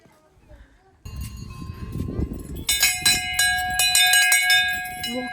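Metal temple bells ring at Muktinath temple while someone walks up stairs, starting with scuffing footsteps and then a rapid, close run of bright bell strikes with long ringing tones.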